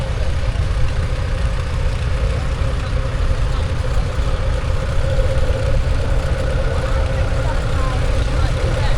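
A vintage tractor engine runs steadily in a festival arena, a loud continuous low rumble with an even idle throb throughout and no distinct changes.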